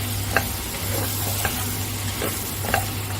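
A spoon stirs coriander powder into a qeema aloo mirchi dish in a pan, scraping in a few soft, regular strokes over a steady low sizzle, close and alone without talk.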